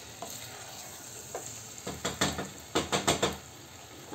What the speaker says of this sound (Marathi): आता हा भात छान आपला परतून झाला आहे तांदूळ भाज्यांसोबत